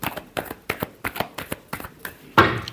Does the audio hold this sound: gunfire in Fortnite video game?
no